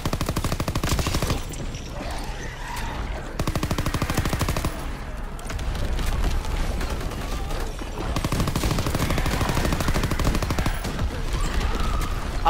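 Sustained rapid machine-gun fire rattles loudly and continuously in Call of Duty WWII zombies mode as players shoot at a zeppelin, with only brief pauses between long bursts.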